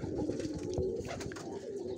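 Pigeons coo steadily and low at close range in a summer bird enclosure, soft repeated throaty calls blending together with no voices.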